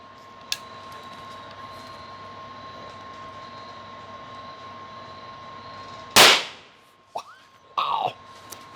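A Huben GK1 PCP air pistol fires a single shot on max power, a sharp loud crack that decays quickly, followed by a couple of brief softer clicks and knocks in a quiet outdoor backyard.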